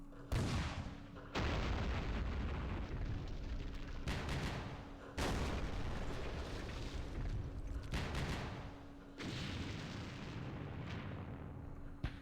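Heavy 120mm mortar fire in the wargame Campaign Series Vietnam, with long booming rumbles that come back in repeated bursts, each ringing out for a couple of seconds, loud and alone with no talking.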